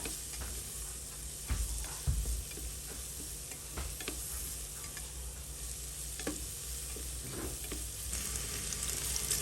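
Vegetables are stir-fried in a pan while cooking tofu biryani, with faint continuous sizzling and occasional scraping stirs of the spatula against the pan, quiet and close.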